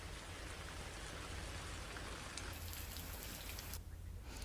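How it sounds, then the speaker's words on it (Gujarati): Heavy monsoon rain in Kutch, Gujarat, a dense steady wash of falling water hitting surfaces, loud and enveloping, unbroken throughout with no voices. "ગઈકાલથી ઉપરવાસના ઉખેડા, વમોટી વિસ્તારમાં વરસાદ પડી રહ્યો છે"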